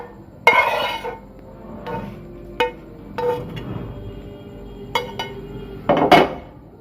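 Noodles for a simple kids' recipe served from a pan onto a plate, with scattered metallic clinks and clatters of utensils against cookware, sharp and near, separated by quiet gaps.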